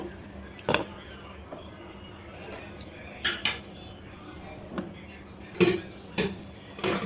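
A metal lid goes onto a pot of Old Dhaka-style morog polao, making several sharp clanks and scrapes of metal on metal spread across the moment, heard close over a quiet room background.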